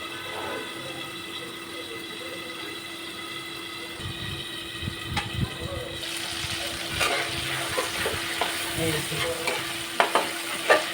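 A masala with onion fries in a pan for a koi fish curry: a steady, close sizzle under a low hum, with clinking spoon strokes that grow busier partway through.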